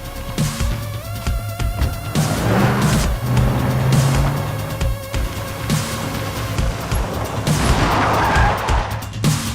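A car pulls away and drives off, loud engine revving and tire noise surging and fading over several seconds under a dense layer of dramatic film music.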